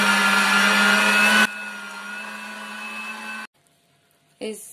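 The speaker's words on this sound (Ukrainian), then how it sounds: "Із цього також ми перекручуємо фарш." An electric meat grinder mincing meat for ground meat, a loud steady motor whine that drops in pitch under load, then cuts off into near silence before a brief clatter.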